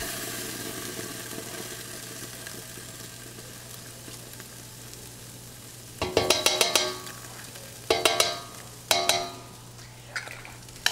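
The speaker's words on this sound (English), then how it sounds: "I'm going to add in my tomato paste." Tomato paste is stirred into vegetables frying in a pan while cooking chicken cacciatore, with a low steady sizzle broken by three bursts of scraping, clattering stirring near the end.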